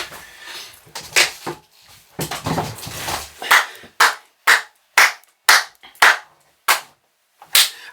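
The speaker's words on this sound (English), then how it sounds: "I can't clap any louder or any more." Hands clap in a loose rhythm, first mixed with busier noise and then as sharp, loud, evenly spaced single claps with short silences between them.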